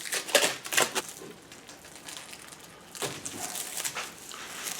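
Plastic wrap is peeled and crinkled off a glued horsebow, with close bursts of crackling rustle in two clusters separated by a quieter pause.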